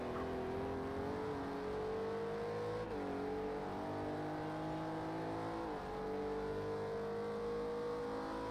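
Race car engine running steadily through the final turns of a lap on the Alton Park time trial circuit, a loud continuous drone that dips briefly twice as the driver lifts, then climbs again, heard from on board with no talk.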